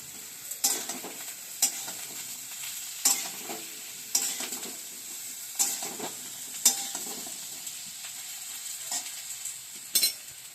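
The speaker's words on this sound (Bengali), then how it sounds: "এবার একটু নাড়াচাড়া দিই" Eggplant frying in a pan for a mustard eggplant dish, with a steady soft sizzle and a spatula scraping and stirring in separate strokes every second or so, close up with no talking.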